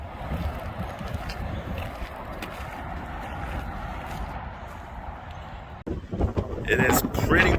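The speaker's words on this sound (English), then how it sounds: "It is pretty windy." Steady wind buffeting the microphone in a constant low roar, with a person talking through it and louder gusts toward the end.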